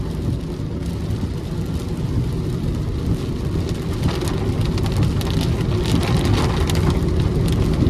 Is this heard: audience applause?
no